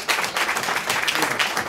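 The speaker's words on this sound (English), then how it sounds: "can you help me say thank you to them, you know, with a very, very powerful applause" Audience at a panel discussion gives the panelists applause, a steady wash of many hands clapping at moderate volume, sustained and even without speech over it.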